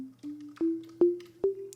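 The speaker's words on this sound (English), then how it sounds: "I picked a sine wave and gave it some unison" A plucky sine-wave synth patch with four unison voices and low detuning plays a rising run of short notes, each with a quick attack and brief decay, clean and alone at moderate level.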